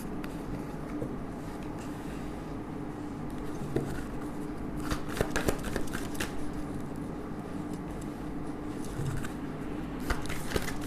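Tarot cards being shuffled, a steady soft riffling and scraping texture running throughout with a few sharper card slaps, close and fairly quiet with no talking.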